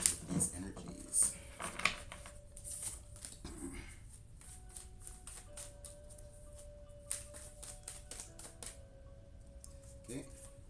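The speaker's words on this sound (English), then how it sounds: "I'm gonna keep shuffling there" Tarot cards being shuffled by hand, with soft riffling and flicking clicks in bursts, louder at first and then lighter and scattered, over a quiet background hum.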